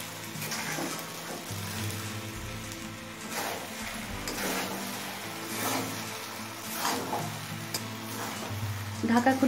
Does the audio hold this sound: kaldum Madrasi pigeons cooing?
no